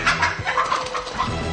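A mother hen chased by two ducks on a farm, with short agitated clucks and flapping-like bursts sounding close and loud, mixed with scuffling noise.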